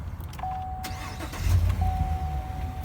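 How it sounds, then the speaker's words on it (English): A truck engine cranks and catches, settling into a low, steady idle with a rumbling boost midway through, two faint steady whines running above it. "So I'm gonna start up the truck"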